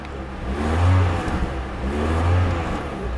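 A Peugeot 206 RC with its 177 hp engine revs twice through the exhaust, a close, loud rising-and-falling roar with a metallic edge and no voices over it.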